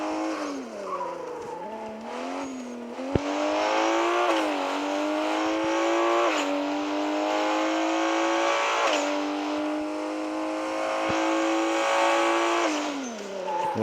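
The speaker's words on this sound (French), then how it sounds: "en plus on entend même le turbo. On entend le turbo, on entend les vitesses, enfin les rapports" Racing video game car engine with a turbo, revving steadily and climbing through gear changes with audible shifts and rising whine, loud and continuous with tire squeal throughout, no talking.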